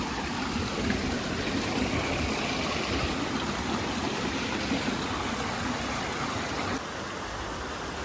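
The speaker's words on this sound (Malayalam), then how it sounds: "അപ്പോൾ ഇതാണ് ഈരാറ്റിൻപുറം വെള്ളച്ചാട്ടം" A dense, steady roar of rushing water fills the whole stretch, loud and unbroken, from the Erattinpuram waterfall in Trivandrum heard from nearby.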